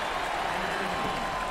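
A home crowd cheers and applauds at a college basketball game, the NIT quarterfinal between Tulsa and Tennessee, as a dense steady roar with an announcer talking over it.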